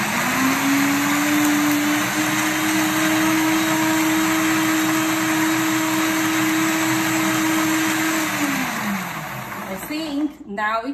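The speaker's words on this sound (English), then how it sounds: "I will turn on the blender again." A kitchen blender whirs while blending juice, holding a loud, steady motor whine for about eight seconds before winding down. A brief clatter follows at the end.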